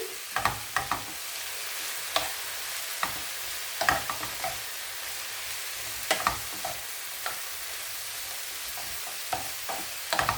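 Steady olive oil sizzle from frying in a pan, punctuated by scattered sharp pops and clatters of stirring, with no talking.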